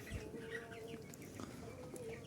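Soft, scattered clucking from about 500 broiler chicks indoors in a shed, faint and continuous with a low hum underneath.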